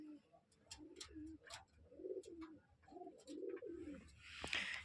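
Rajshahi Giribaz pigeons coo in a series of soft, rolling calls at close range, with a brief rustle near the end.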